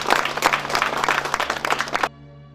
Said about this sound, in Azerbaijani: Alqışlarla.